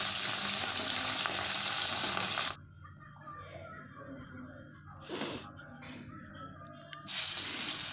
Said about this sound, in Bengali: এইভাবেই সব মাছগুলি ভাজতে হবে।